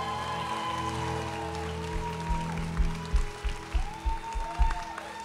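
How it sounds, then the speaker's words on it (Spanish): A church congregation applauds in a steady wash of clapping over a low background hum, with a few louder hand claps standing out near the end. "Quiero que todos en este momento den un fuerte aplauso."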